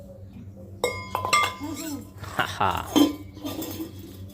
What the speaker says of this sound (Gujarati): શિવરાજ આજે વાસણ ખેંચવા બેસી ગયા છે